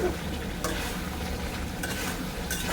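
Thinly sliced potatoes and vegetable stalks are sautéed in a pan with spices, giving a faint, steady sizzle broken by a few soft scraping stirs.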